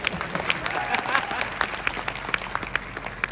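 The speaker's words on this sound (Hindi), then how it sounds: "मेरे लिए एक बार जोरदार तालियां हो जाए।" Audience clapping at a business seminar, moderately loud and uneven, scattered sharp claps over a steady patter with some voices mixed in.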